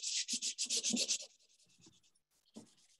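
Hand sanding of a chalk-painted glass home décor piece: about ten quick, rhythmic scratchy strokes up close, then fainter, lighter rubbing with a brief stroke near the end.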